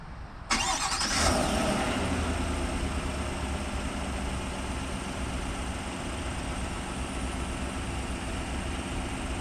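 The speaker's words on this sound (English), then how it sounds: "All right, that's the sound from the front" Chevrolet Silverado pickup with a 5.3 liter V8, heard from the front as the engine cranks and fires with a sudden surge, then settles into a steady, low, even idle that runs on with no talk.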